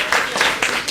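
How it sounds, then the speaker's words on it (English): A crowd applauds a child who has pulled names from a draw, a brief, loud burst of dense clapping with a few louder swells. "let's give him a round of applause"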